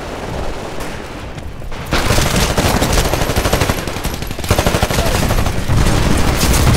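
Gunfire in the video game Titanfall, dense rapid automatic shots rattling continuously, loud and close with a few brief pauses between bursts.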